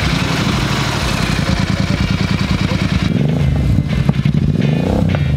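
A Royal Enfield Super Meteor 650 motorcycle idles through an aftermarket exhaust fitted with a dB killer, a rapid, steady, throaty putter, loud and close, then shifts to a deeper, rougher rumble.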